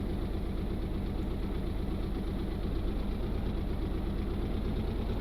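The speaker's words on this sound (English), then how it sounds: "So a nice slow revving engine, so I like that sound. It sounds quite realistic for a ship." Steady, slow-revving ship engine from the Stormworks Pallas Mk II sea trial, one of four engines, a loud low chugging drone with a regular knock that runs unbroken from start to end.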